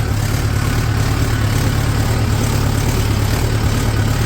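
A 4x4 diesel tractor engine runs steadily at about 1100 RPM in a muddy field, giving a loud, low, continuous drone with an even, rapid pulse and no pauses.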